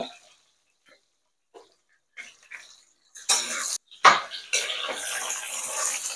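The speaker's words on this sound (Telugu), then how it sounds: "కాకరకాయలు యాడ్ చేసుకొని ఇలా కలుపుతూ అన్ని ముక్కలకి ఆయిల్ పట్టాలన్నమాట" Bitter gourd pieces are added to hot oil in a pan and begin to sizzle, with scattered light clinks before a sudden loud hiss. The frying then settles into a steady crackle.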